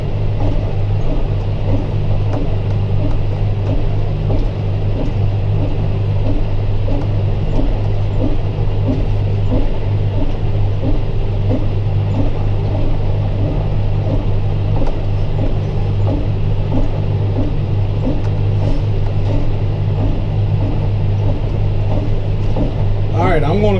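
A Kuhns AF10 machine drives back uphill with a steady, loud engine rumble and drone that holds without a break throughout.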